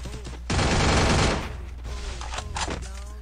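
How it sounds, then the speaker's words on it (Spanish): Sustained burst of rapid automatic gunfire in an online shooter game, loud and dense for about a second, followed by quieter scattered shots with game sounds and a voice in the background. "¿De dónde están disparando?"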